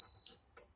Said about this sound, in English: Has an audible alarm when you turn it on.